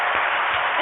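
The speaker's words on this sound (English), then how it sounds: "Everybody clap it up and meet Aisha." Brief burst of applause, dense broadband clapping that fills the whole moment at steady loudness, with no voices over it.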